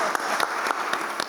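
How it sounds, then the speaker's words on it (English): An audience at a Pasadena National Coming Out Day event in 2023 applauds a panel: a steady wash of clapping with a few sharper claps standing out, sustained and fairly loud throughout. "give one more round of applause to the whole group"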